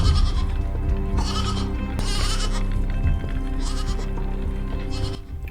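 A goat bleats in a scene from the TV series Severance, episode Cold Harbor: several loud, wavering bleats come in bursts over a steady low background.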